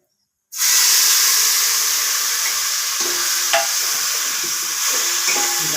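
Khengat paste of ground peanut, ginger, garlic and coconut hits a hot pan with a sudden loud sizzle that settles into steady frying hiss, with faint stirring clinks.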